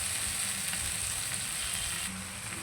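Chicken frying in a pan while being stirred, browning in oil: a steady, close sizzle with soft scraping stir sounds running throughout.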